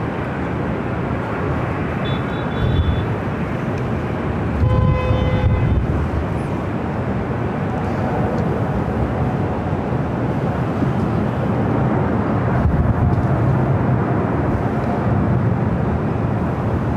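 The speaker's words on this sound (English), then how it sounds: "got that 777-300ER, China Eastern, heading back to Shanghai, heading up for a north side takeoff" A China Eastern Boeing 777-300ER departing LAX, a loud, continuous broadband jet roar sustained throughout with slight swells, heard alone with no talking.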